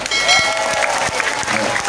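Audience applauding at a lively Indonesian Islamic sermon, with dense, steady clapping from a crowd filling the short moment, loud and close, mixed with some voices under it.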